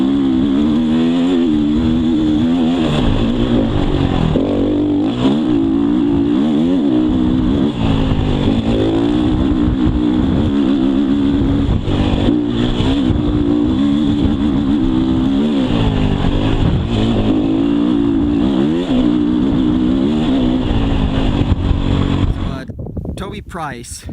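A KTM 350 EXC dual sport motorcycle rides off-road, its engine loud and close, rising and falling through constant revs and shifts before dropping away at the end.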